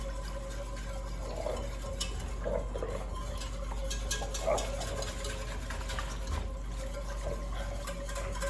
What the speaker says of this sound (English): I'm going to stir that again with my whisk.